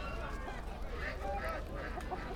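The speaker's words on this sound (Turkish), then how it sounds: "Şurada tavuklar var." Chickens squawk and honk in short bursts amid a busy, noisy poultry market in Sakarya, with crowd murmur and low rumble throughout.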